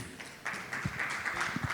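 Audience applause for a speaker at a quantum computing and cybersecurity tech conference: a dense, steady wash of clapping that swells in after a brief pause and holds, with a few louder low thumps.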